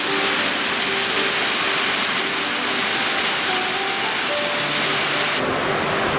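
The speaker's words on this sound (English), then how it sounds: "We like waterfalls." Steady, loud rush of a waterfall on the Phelps Lake Loop in Grand Teton National Park, a dense broadband roar that continues without pause from start to finish.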